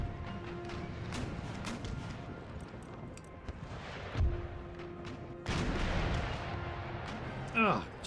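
Naval cannon fire in Empire: Total War, with booming shots and thuds from sailing warships amid rumbling battle noise, some reports sharper and nearer, others distant.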